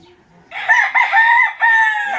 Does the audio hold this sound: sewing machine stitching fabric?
no